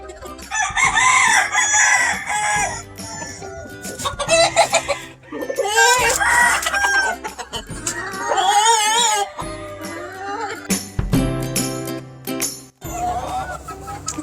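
Brown red chickens on a Georgia farm: a rooster crows several times, loud and close, while hens cluck throughout and other birds call in the background.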